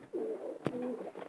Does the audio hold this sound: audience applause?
no